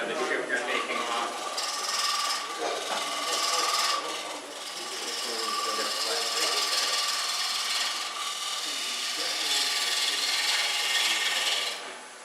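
A woodturning tool cuts into spinning wood on a lathe, a continuous loud rasping, scraping hiss as chips come off, rising and easing with the cut over a steady motor hum.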